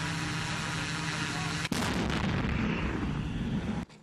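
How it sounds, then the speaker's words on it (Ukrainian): American and British grenade launchers fire during military training, a loud, sustained roar suddenly broken by a sharp blast partway through, then cutting off abruptly. "Українські десантники відпрацьовують застосування американських та британських гранатометів в умовах, наближених до бойових."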